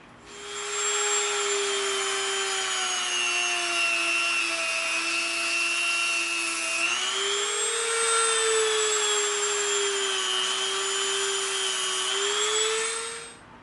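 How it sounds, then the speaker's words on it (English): A Dremel rotary tool fitted with a big bit whines at a steady high pitch while carving EVA foam, running loud and continuous with a slight pitch shift partway through, then spinning down at the end. "We're going to come in with this big Dremel bit."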